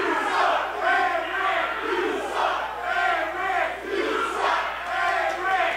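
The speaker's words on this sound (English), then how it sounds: "Fans letting Rick Luxury know what they think about him" A wrestling-event crowd jeers a wrestler in steady rolling waves of booing and shouting that fill the arena, loud and continuous, with no clear voice standing out.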